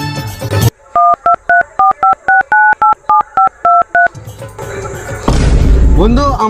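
A phone number is punched into a borrowed mobile phone: a quick, even run of about a dozen loud keypad tones, with a brief voice before and noisy rustling and chatter after.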